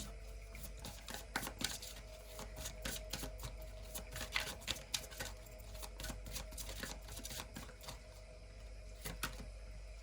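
Tarot cards being shuffled and drawn from a deck, a quiet run of papery flicks and soft slaps in quick irregular bursts, close up over a low steady hum.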